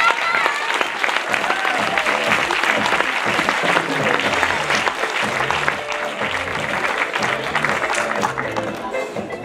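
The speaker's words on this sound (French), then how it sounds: "Tous les applaudissements ce soir" A festival crowd at the 2015 Txiki Festival applauds its founder and president Virginie Sassoon, giving dense, sustained clapping with some scattered voices and shouts mixed in.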